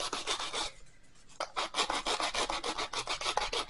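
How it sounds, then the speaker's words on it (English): An emery board rasps back and forth against a surface being roughed up for a homemade snow globe craft, giving quick rhythmic scratching strokes close by after a brief pause. "what is an emery board but a little bit of sandpaper? So I'm going to see if I can rough it up."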